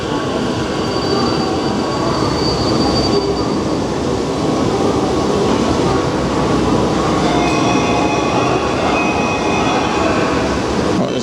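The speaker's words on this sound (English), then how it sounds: "Oh, there's the train." A train arriving at a station in Japan rumbles loudly and steadily close by, with high metallic wheel squeals rising over the continuous clatter.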